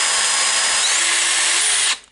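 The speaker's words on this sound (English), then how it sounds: "Now we need to check the drill itself." A DeWalt DCD796 18V brushless drill driver, just repaired after an intermittent fault, runs with a loud, steady high whine for about two seconds, rising slightly in pitch, then spins down and stops.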